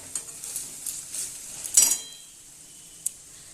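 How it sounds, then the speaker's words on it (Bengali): Onions fry in a pan for a chicken curry, a faint sizzle broken by a few soft stirring scrapes, a louder clatter of a utensil against the pan midway, and a brief tap near the end. "এই যে পেঁয়াজটা ভাজছি।"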